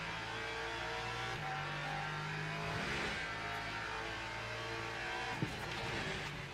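A hypercar in the Le Mans Ultimate racing game at Circuit of the Americas during a six-hour event, its engine holding a steady high drone that shifts pitch as it changes gear, loud and continuous without talk.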